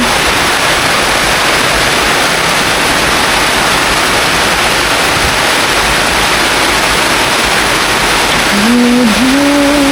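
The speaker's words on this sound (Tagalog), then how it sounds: "Sobrang lakas ng ulan." Heavy rain pours down at a house with a makeshift bamboo window, a loud, dense, unbroken hiss that fills the whole clip; a voice sounds briefly near the end.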